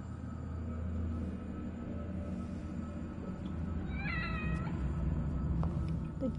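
A cat meows in a game, with a clear rising and falling call near the middle, set over a steady low rumbling ambience.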